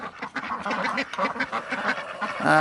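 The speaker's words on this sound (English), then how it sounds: "And this one here is a cayuga duck." Several ducks, including Cayugas, quack in a busy, overlapping chorus on a farm, close by and fairly loud, with calls coming in quick irregular bursts.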